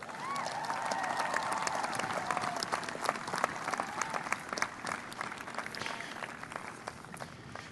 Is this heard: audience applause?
yes